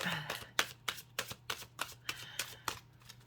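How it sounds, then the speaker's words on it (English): Tarot cards are shuffled by hand in a steady run of crisp riffling snaps, about a dozen sharp bursts at a regular pace, close and clear over a low background hum. "I shuffle until I'm called not to shuffle"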